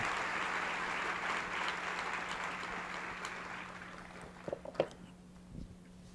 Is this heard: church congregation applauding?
yes